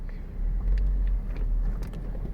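Hummer H3 SUV being driven, a low, steady engine rumble with faint road noise, heard from inside the vehicle.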